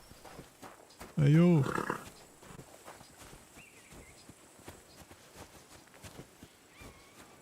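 Horse hooves clip-clop at a steady walking pace in a video game, soft repeated taps under a brief loud shout and faint background ambience.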